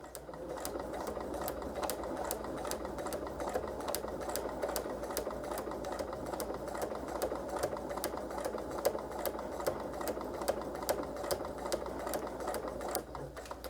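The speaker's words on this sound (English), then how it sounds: "When you get down to the end where you should stop, I'm back stitching" A sewing machine stitches a quilt block for an economy block pattern in a fast, even run of needle strokes, a steady mechanical chatter heard close and alone throughout.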